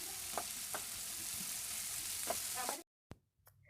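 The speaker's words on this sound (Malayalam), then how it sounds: "അതിലേക്ക് മീഡിയം സൈസിലുള്ള 2 സവാള ചെറുതായിട്ട് കട്ട് ചെയ്തിട്ട് ഇതിലേക്ക് ചേർത്തിട്ട് നന്നായിട്ടൊന്ന് വഴറ്റിയെടുക്കണം" Chopped onions sauté in hot coconut oil, a steady, fairly soft sizzle with occasional stirring clicks that cuts off abruptly near the end, followed by near silence and a couple of brief knocks.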